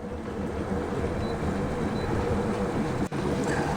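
A boat's outboard motor idles at low speed on open water. It gives a constant, steady rumble mixed with wind and water wash, moderately loud throughout. No one speaks.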